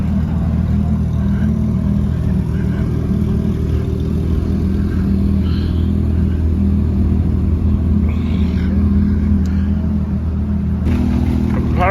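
Porsche 911 Turbo with about 1,000 horsepower, its engine a loud, steady, deep rumble idling or running nearby at a gathering of cars, with faint voices in the background.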